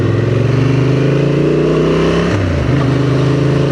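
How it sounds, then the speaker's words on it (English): A 2024 Honda Transalp motorcycle engine running close by, a loud steady throb with a pitch dip partway through as the revs shift. "Bike sounds incredible."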